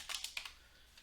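A few quick keystrokes on a computer keyboard, four or five light clicks in a short burst near the start, then quiet.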